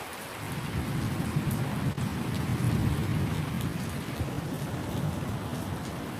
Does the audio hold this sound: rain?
yes